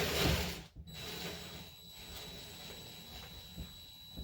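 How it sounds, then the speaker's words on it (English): A screw is driven into a drywall toggle anchor while a TV or monitor is mounted to the wall, giving a close, continuous mechanical whirring with faint ratcheting clicks and a brief catch early on. "I'll stick this right in there and start that screw"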